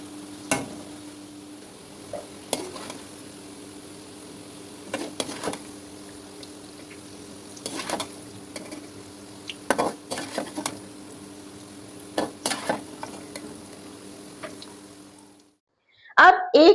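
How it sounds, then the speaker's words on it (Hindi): Taro root (arvi) frying and being stirred in a pan for an arvi masala dish: a low steady sizzle runs throughout, broken by repeated scrapes and clinks of a utensil against the pan, before a brief louder clatter at the end. "अरवी को दरमियाना फ्राई करना है, बहुत ज्यादा गोल्डन फ्राई नहीं करना।"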